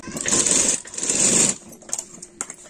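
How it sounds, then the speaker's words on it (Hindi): A sewing machine run slowly around the curve of a half collar gives two short bursts of stitching, close by, followed by quieter scattered clicks and handling. "मशीन को धीरे धीरे चलाकर इसी तरीके से गोलाई में यहाँ पर सिलाई लगानी है"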